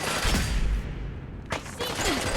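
Loud, close bursts of video game gunfire from a pump gun, a rapid cluster of blasts at the start, then a sharp single shot and further cracks after a brief lull, with some voice mixed in.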